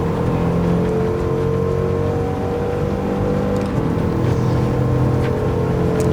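A 2013 Bugatti Veyron 16.4 with its W16 engine races around the La Sarthe circuit in a PS5 racing game, its engine droning loud and continuous at a fairly steady high pitch with faint shifting overtones.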